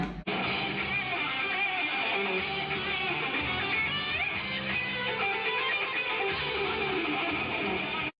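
An electric guitar plays a melodic lead lick, moving across neck positions with a string bend, sustained and continuous over a full backing mix.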